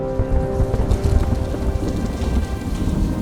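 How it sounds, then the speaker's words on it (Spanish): Torrential rain pours down during a 100 km mountain trail run in Colombia, a dense, steady roar of heavy drops with low rumbling that may be thunder, loud and unbroken throughout. "Empieza a llover de un momento a otro de manera torrencial"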